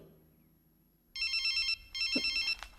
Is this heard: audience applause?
no